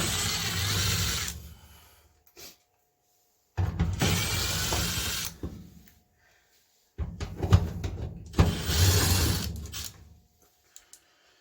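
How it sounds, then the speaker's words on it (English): A power driver backs screws out in three long, loud buzzing whirs of one to two seconds each, separated by silent pauses, heard up close with no talking. "when I buzz out the rest of these, I'm going to take and just probably thread that screw back in there"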